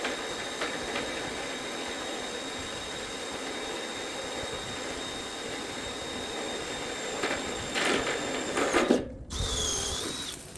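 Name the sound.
power drill drilling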